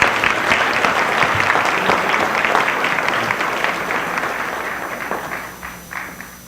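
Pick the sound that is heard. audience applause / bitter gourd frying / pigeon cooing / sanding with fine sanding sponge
audience applause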